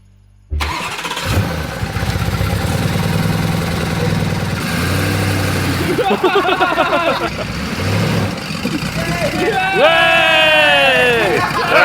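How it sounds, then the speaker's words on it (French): A damaged Lamborghini Urus engine cranks and catches, then runs steadily through the clip with a rough, uneven idle, while people talk and shout over it nearby. "Démarrer, mettre en marche arrière et voir si ça recule."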